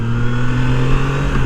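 A Triumph Trident 660 motorcycle engine hums steadily at a constant pitch while riding, a brief, close and even drone with no talk.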